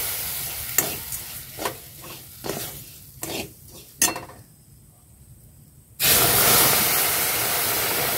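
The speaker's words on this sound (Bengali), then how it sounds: "ভালো করে মিশিয়ে নেব জলের সাথে।" A utensil stirs milk into water in a cooking pot, with several scraping clinks against the metal, then a pause before a steady, loud hiss fills the last couple of seconds.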